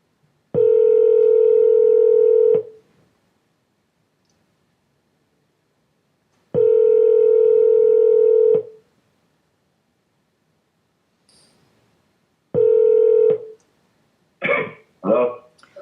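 Landline telephone dial tone sounding in three steady, loud bursts of about two seconds each, separated by silence, followed by a couple of short, clipped tones like keypad dialing near the end.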